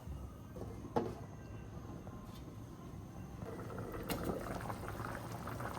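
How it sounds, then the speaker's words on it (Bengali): Broiler chicken curry boils in a covered pot on the stove, a soft continuous bubbling and simmering hiss with a sharp clink near the start and a few louder bubbling bursts later. "তো এই যে বন্ধুরা তরকারিতে ব্লক চলে আসছে।"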